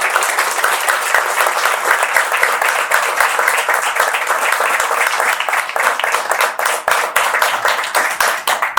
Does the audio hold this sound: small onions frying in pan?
no